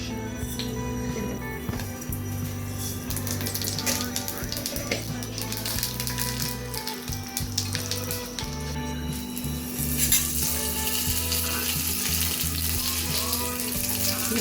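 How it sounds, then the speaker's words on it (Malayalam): Fenugreek seeds drop into hot coconut oil and sizzle in a continuous crackling hiss, with a low steady hum and occasional clinks underneath, close by and with no voices. "അപ്പോൾ ഗൈസ് നമുക്ക് വെളിച്ചെണ്ണ ഒഴിച്ചിട്ടുണ്ടെങ്കിൽ നമുക്ക് കുറച്ച് ഉലുവിടാം"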